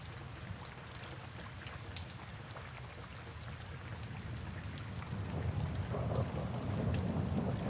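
Steady heavy rain pours down during a thunderstorm, a dense continuous hiss with low rumbling thunder underneath that swells louder toward the end, with no voices.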